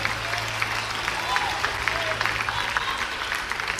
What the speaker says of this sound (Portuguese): os que podem, tomem seu assento aplaudindo a Jesus, porque Ele é bom